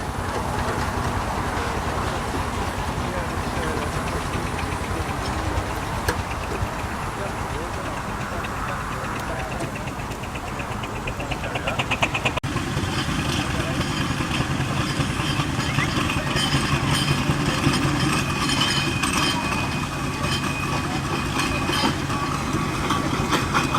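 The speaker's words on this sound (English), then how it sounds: "The Ransom's traction engine, this one." A heavy Ransomes steam traction engine chugs steadily with a continuous mechanical rumble at an outdoor vintage rally, surrounded by crowd noise and people talking.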